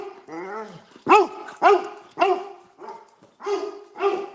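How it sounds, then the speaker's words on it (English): A dog barks and yips repeatedly in close, loud bursts, about seven sharp calls with some whimpering, during a sports talk show call. "The dog."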